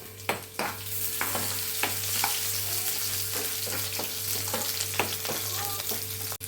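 Curry leaves fry in hot oil for a Kerala moru curry with ash gourd, a dense continuous sizzle with scattered sharp crackles and pops throughout, under a steady low hum.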